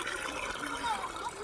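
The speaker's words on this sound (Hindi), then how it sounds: "આ ભરે છે ભાઈ, પાણી ભરે છે" Water pouring steadily into a container, a continuous trickling fill heard close by with a voice talking over it.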